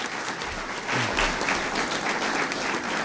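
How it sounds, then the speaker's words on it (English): Audience applause at a university athletics announcement for UTPA's new women's and men's soccer programs, greeting the athletic director. A dense, loud wash of clapping swells after the first second and holds steady to the end. "How about a round of applause for Mr. Chris King?"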